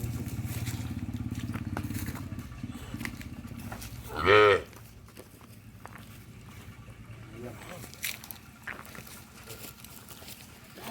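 A Khillar bull gives one loud, short bellow partway through, rising above a low rumbling background with faint voices.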